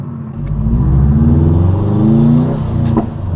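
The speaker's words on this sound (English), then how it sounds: "Oh, that backfire, though." A Subaru WRX engine revs hard as it accelerates, with a sharp pop of a backfire near the end over the steady roar.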